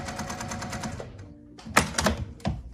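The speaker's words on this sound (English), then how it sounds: "I'm just finishing up sewing all the way around this, all 4 sides" A sewing machine stitches a scant quarter-inch seam around all four sides of a pinned quilt block, running in a steady close whir for about a second before stopping, followed by a few sharp clicks and handling sounds.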